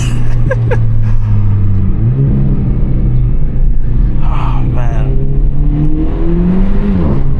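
2024 Renault Megane RS 300 Trophy, 300 hp, engine revving hard under way: a loud, sustained engine note rising and dipping with gear changes, close and continuous, with a brief spoken exclamation over it.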